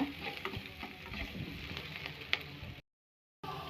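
Chana dal, urad dal and chopped green chillies roast in oil with a soft, crackly sizzle and light stirring taps, then a brief cut to silence before the frying sound resumes.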